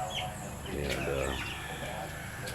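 Chickens kept at a simple home in the Philippines give soft clucks and coos near the microphone, with a few brief sharper calls over low background noise.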